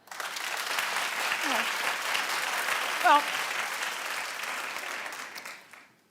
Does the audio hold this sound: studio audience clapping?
yes